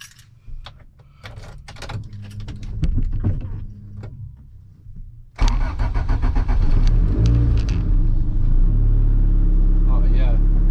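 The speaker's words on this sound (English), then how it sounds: "go for a drive" Interior of a car driving on the road, fitted with sound deadening. Door and window clunks and soft handling sounds come first, then a steady low road and engine rumble with clicks on top.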